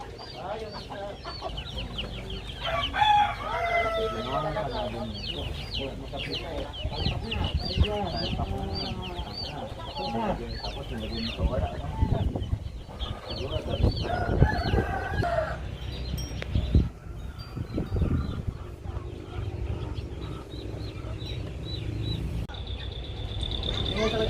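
Chickens cluck steadily while roosters crow now and then, a lively farmyard chorus with a person talking over it at times.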